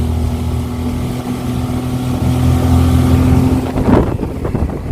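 A 30-horsepower outboard motor drives an aluminum boat, droning loudly and steadily with wind buffeting the microphone and a surge of splashing water near the end.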